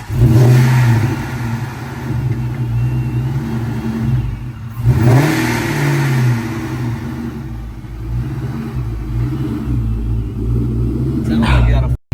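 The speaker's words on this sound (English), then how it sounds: "Sounds like you got a 800 horsepower race car with the way it's idling." A NewEdge Ford Mustang race car with a manual clutch, heard from inside during a ride along, holds a rough, rumbling idle broken by two strong rev surges, with voices talking over the engine.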